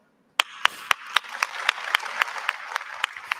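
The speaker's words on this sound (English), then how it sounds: "I like how Jolie started clapping first." Hands clapping in a small group at a casual talk-show or podcast recording, about a dozen sharp, evenly spaced claps that start after a brief silence and build into a light patter of applause.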